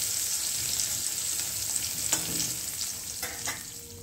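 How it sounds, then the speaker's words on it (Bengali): Fish and eggplant frying in a home kitchen pan, a continuous close sizzle with occasional stirring scrapes throughout. "একদিকে মাছ হচ্ছে, একদিকে বেগুন ভাজছি।"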